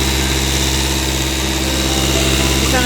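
A car engine idles steadily with a constant low hum and slight vibration, close by and continuous throughout, while the cooling system is being bled of air.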